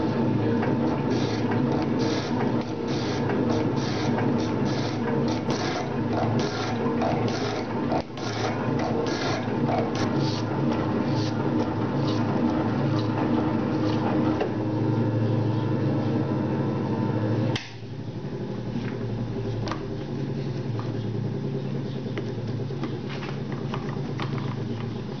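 A metal-cutting machine shapes a T-nut with a steady whirring drone and rapid chattering cuts, the tone dropping and changing partway through as the cut shifts.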